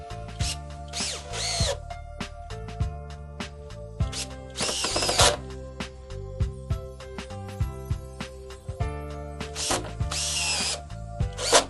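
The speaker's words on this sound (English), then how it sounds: "Using 3 number 10 by 1 1/4 inch self-tapping screws, 1 in every other hole, attach the stringer extension to the stringer." A power drill drives number 10 self-tapping screws, 1 1/4 inch long, into a pool step stringer extension. Several loud whirring bursts come close up, separated by short pauses and light clicks of handling.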